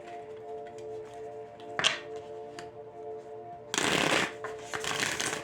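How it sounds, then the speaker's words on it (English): Playing cards are shuffled up close: a quick riffle, a few taps as the deck is squared, then a longer, louder riffling burst. "A few more shuffles and then we'll start taking."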